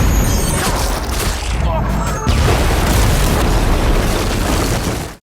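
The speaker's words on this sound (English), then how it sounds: "A huge firefight kicks off." A dense movie firefight fills the scene with continuous booming explosions and bursts of gunfire, loud and unbroken before cutting off sharply.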